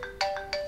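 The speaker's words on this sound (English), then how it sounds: "That's my phone." Electronic phone ringtone in the hunting game theHunter: Call of the Wild, bright repeating tonal bursts in a quick regular pattern, loud and close with no talk.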